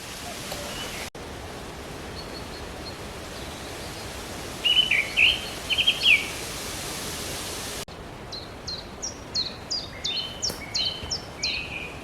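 Birds chirp in short bursts in a forest over a steady rushing background hiss, one bird repeating a quick series of high notes near the end.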